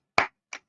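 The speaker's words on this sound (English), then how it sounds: "Let's give him a round of applause." Two quick, close hand claps by a single person, the first louder and the second softer, with silence between and after them.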